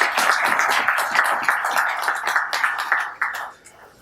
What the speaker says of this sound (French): On va vous applaudir aussi, pourquoi pas.